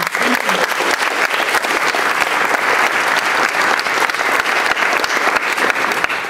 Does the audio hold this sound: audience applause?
yes